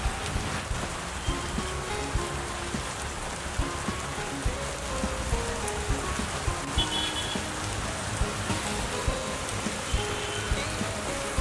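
Steady rain falling in Kullu in late spring, a dense continuous patter on surfaces with scattered sharper drops, moderately loud and even throughout, no voices.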